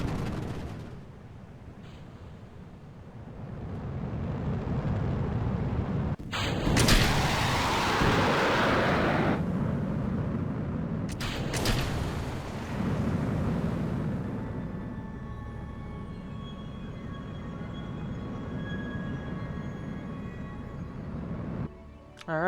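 A rocket launches in a video game with a deep, loud roaring rumble that surges in and holds steady, broken by sharp cuts, then thins to a quieter hiss with tonal whines.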